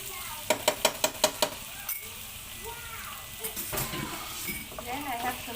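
String beans and pork are stir-fried with oyster sauce: six quick, evenly spaced spatula scrapes in the pan, then softer stirring over a low sizzle while a voice talks faintly.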